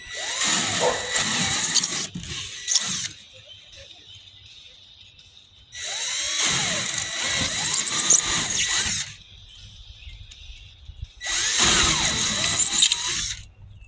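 A cheap, wobbly two-dollar hole saw bores through material in three loud bursts, each several seconds long and broken by short quiet pauses, with a harsh whining squeal over the drill's motor.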